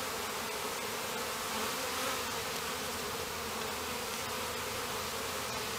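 Honeybees shaken from a hive frame during a winter inspection fill the air with a dense, steady, close buzzing drone that holds evenly throughout, without any voices.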